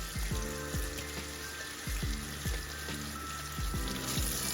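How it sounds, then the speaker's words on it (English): Lukewarm tap water runs steadily into small lip gloss tubes at a sink, a continuous close splashing hiss with low gurgling pulses recurring about every second as the tubes fill. "turn your water on. Do lukewarm still"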